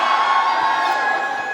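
A crowd cheers and shouts steadily at a Franck Muller watch launch event with Ranveer Singh, a dense, continuous roar of voices throughout.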